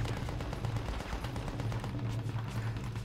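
Rapid gunfire in the video game Mercenaries, a dense continuous burst of shots and explosions filling the whole stretch with no pauses and no talk over it.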